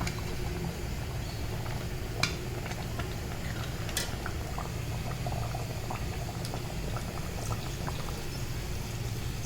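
Broth sizzling and bubbling in a pan of meat and potato curry, a steady close boil with scattered clinks and pops throughout, no talking.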